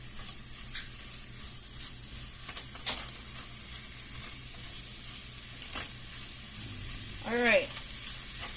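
Old El Paso asada chicken simmers in a pan with some liquid, giving a steady low sizzle throughout, with a few stirring clinks and a brief spoken word near the end.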